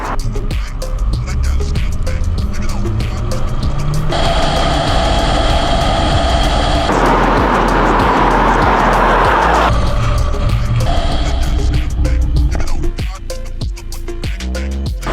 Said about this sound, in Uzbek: Kia K5 da 100 tezlikda tormozsiz o'tkazamiz